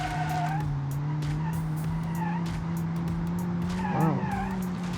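A hatchback in the BeamNG driving game holds a steady engine drone through a corner, with tires squealing and skidding loudly, the skid peaking briefly near the end.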